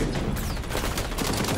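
Dense, continuous gunfire from the XDefiant shooter game, rapid shots blending into a loud, steady fusillade close up and without talking.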